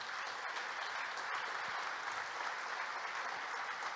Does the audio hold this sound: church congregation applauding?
yes